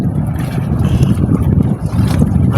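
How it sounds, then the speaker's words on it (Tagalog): Strong wind buffets a small boat at sea, a loud, continuous low rumble of gusts against the microphone that dips briefly before surging again, with no voices. "Masyado malakas yung hangin mga idol."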